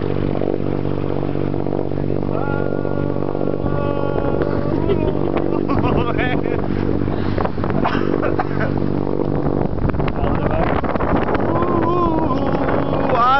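A boat's motor drones continuously and loudly at a steady pitch, mixed with heavy wind buffeting on the microphone and some indistinct voices and music over it.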